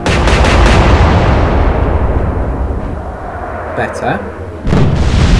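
In the Atlantic Fleet naval game, heavy ship guns boom in a loud rumbling salvo that slowly fades, followed by a sharp explosion crack, with a brief spoken word in the middle.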